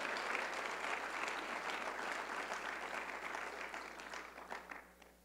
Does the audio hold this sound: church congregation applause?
yes